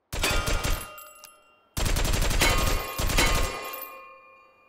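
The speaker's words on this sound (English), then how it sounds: "Let's see what the BAR sounds like with the suppressor." A suppressed BAR rifle on fast fire in a VR shooting game, three quick bursts of rapid muffled shots with short gaps between, each trailing off into mechanical clatter.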